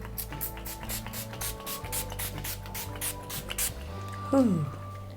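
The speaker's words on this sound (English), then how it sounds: "I'm gonna use the setting spray from Golden Rose" Quick repeated spritzes of a makeup setting spray bottle, about a dozen short hissing bursts in a steady rhythm over a low background hum.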